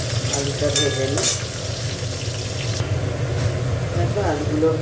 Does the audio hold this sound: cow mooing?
no